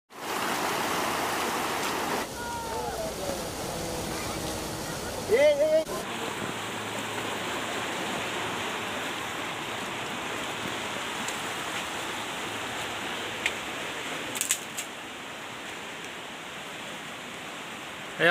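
Floodwater on the swollen Nanoi river rushes in a steady, loud, broadband roar that continues throughout, with a faint voice briefly audible early on and a few small knocks.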